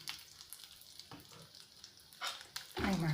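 Red chillies and asafoetida fry in a pan for a puffed-rice churmuri mixture, making a faint, low sizzle with a few soft stirring scrapes, then a louder burst of noise near the end.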